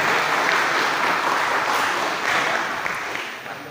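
Enthusiastic applause from the audience at a Zero Bullying declaration event in Kubu, Kubu Raya, a steady dense wash of clapping that holds for several seconds and fades slightly toward the end.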